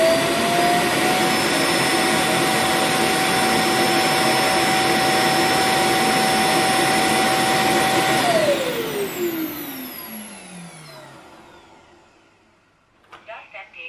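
A Kyvol Cybovac S31 robot vacuum runs with a loud, steady high whine for about eight seconds, then its motor winds down and fades out, followed by a few faint clicks.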